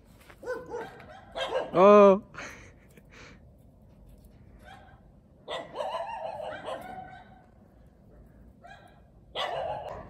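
Dogs bark near a wire fence, with several sharp barks and a drawn-out yelp among panting, laughter and people talking.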